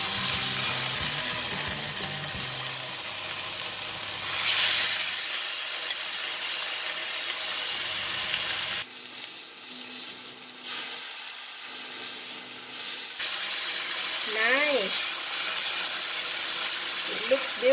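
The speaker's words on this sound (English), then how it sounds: "sear the meat." Pork belly sears in a hot pan with very little oil, a steady sizzle and hiss running throughout with occasional stirring, and a voice talks briefly at the start.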